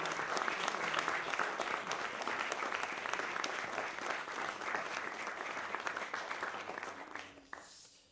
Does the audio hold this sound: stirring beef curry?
no